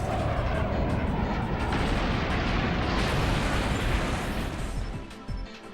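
A mecha in the RahXephon anime unleashes sound as a weapon, a loud continuous roaring blast like heavy explosions that holds steady for several seconds before briefly dropping near the end.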